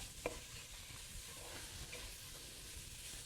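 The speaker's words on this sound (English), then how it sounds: "Let that kind of cook in the oil and the onion juice here." Onion and chili powder cooking in oil with onion juice, giving a steady, faint sizzle and hiss with a few soft stirring scrapes, heard alone without talk.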